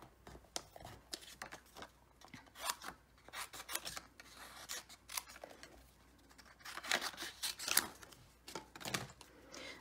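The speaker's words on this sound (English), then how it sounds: "now we're going to cut these 2 pieces." Scissors snip through pieces of card stock in a quiet, close series of irregular crisp cuts and rasps, some coming in quick bursts.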